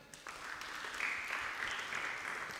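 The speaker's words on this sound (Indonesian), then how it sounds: "Tepuk tangan dulu." Church congregation applauding at a Christmas Sunday school service, a short, steady burst of many hands clapping together, moderately distant and sustained throughout.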